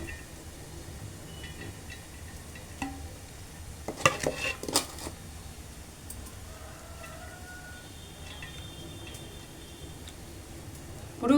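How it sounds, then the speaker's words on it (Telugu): Rice tipped into a pot of half-cooked chicken biryani curry, a soft scattering clatter with a few utensil knocks and scrapes against the pot, fairly quiet under low kitchen background noise, no talking. "ఇప్పుడు మనం ఈ రైస్ అనేది వేసుకున్నాం ఫ్రెండ్స్."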